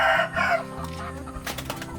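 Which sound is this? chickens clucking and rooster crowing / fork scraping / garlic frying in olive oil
chickens clucking and rooster crowing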